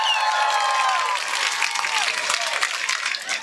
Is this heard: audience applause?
yes